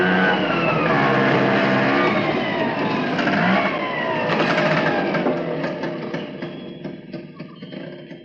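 An auto rickshaw engine runs loudly and close, revving with a buzzing mid-pitched drone that shifts as it pulls away, then gradually fades as the vehicle drives off.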